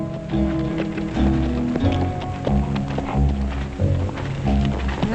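Horse hooves clip-clop in an old western TV series, a steady rhythmic trot partly masked by loud music playing throughout.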